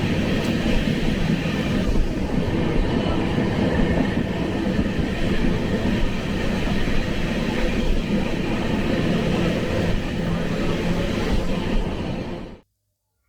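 Coalfield Superfast Express pulls into Barakar station, a constant loud rumble of wheels and carriages rolling on the rails from inside the train, fading out at the very end.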